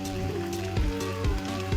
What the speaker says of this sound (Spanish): Aquí sí se echa la lluvia fuerte.